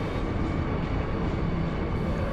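Train noise from the Final Fantasy 8 video game, heard aboard the SeeD private cabin: a steady, loud rumbling roar of a moving train, continuous throughout with no talk.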